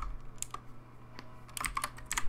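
Keystrokes on a computer keyboard while coding a Roblox Studio script, heard as scattered clicks and then faster bursts of typing, close and clear with no talk.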